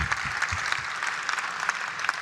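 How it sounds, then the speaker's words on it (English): Audience applause at the 2014 National Book Festival, a short burst of steady clapping from a crowd, moderately loud, with no one speaking over it. "Feel free to break in with applause anytime during this address."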